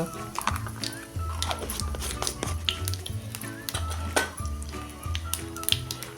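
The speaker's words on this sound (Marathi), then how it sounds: "मोहरी तडतडते त्यात टाकूया हे अर्धा चमचा जिरे" Mustard seeds, half a spoon of cumin and a pinch of asafoetida crackle in hot oil, giving sharp scattered pops and snaps at close range over steady background music.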